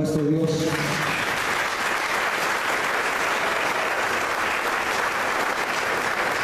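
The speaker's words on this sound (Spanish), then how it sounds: "Démosle un aplauso a nuestro Dios." A church congregation breaks into sustained, dense applause that fills the space evenly from start to finish, many hands clapping together at a steady loud level, with a brief voice at the very beginning.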